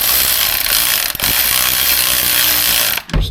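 A hand ratchet clicks rapidly and steadily close by as someone tightens the belt idler pulleys on a cheap junk car, with a brief pause partway through and no speech.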